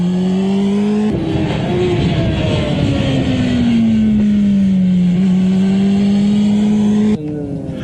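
A motorcycle engine drops briefly as the rider rolls through a corner, then climbs steadily in pitch as the throttle reopens. The loud, close drone holds continuously before cutting down sharply at the end.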